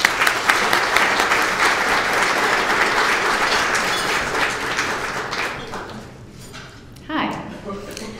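An audience applauding to welcome a speaker to the stage at a lecture, with dense, loud clapping that holds steady and then thins out and fades near the end.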